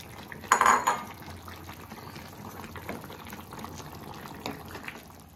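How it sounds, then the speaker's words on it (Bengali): Fish curry with fried eggplant bubbles in a pot, a low steady simmer punctuated by a sharp metallic clink early on and faint utensil taps, close and quiet, no speech. "দু মিনিট মতো ফুটুক"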